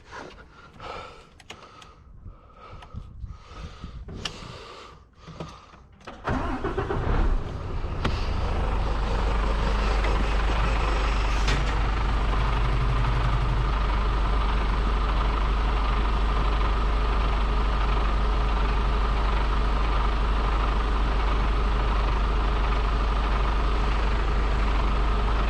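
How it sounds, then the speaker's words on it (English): A truck engine, in a double-decker curtain-sider rig, cranks after some quiet rustling, then catches and settles into a loud, steady low idle that rumbles on without a break. "start the engine maybe"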